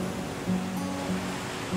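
Rough, rushing river water in the survival video game The Flame in the Flood, a continuous broadband wash with low rumble and no speech.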